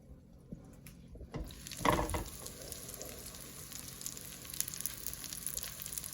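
Pickled or lightly salted cucumber slices coated in breadcrumbs fry in a pan with a steady crackling sizzle, marked by a louder burst of spattering and scattered pops, with no talking.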